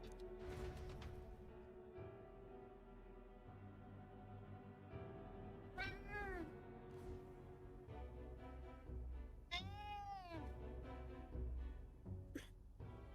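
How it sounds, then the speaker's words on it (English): A cat in the video game Metaphor: ReFantazio lets out two drawn-out, wavering meows several seconds apart over quiet sustained background tones. "Fucking cat."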